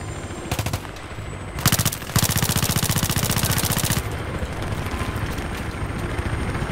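Loud sustained machine-gun bursts in Battlefield 3, close and rapid with steady rhythmic cracks, broken by brief pauses, over a continuous engine-like rumble.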